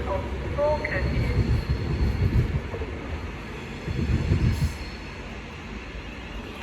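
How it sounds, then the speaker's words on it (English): A London Northwestern Railway train departs Stafford on its Birmingham New Street to Liverpool Lime Street run, with a low, steady rumble of wheels and motors that swells and fades. A voice is faintly present. "now departing is the 13:42 London Northwestern Railway service from Birmingham New Street to Liverpool Lime Street"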